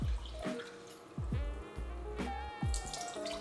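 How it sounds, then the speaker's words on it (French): Japanese rice is rinsed in cold water with repeated close drips and swishing splashes, a few distinct plops against a light running-water background. "On va commencer par laver le riz bien comme il faut. Il suffit de le passer dans de l'eau froide,"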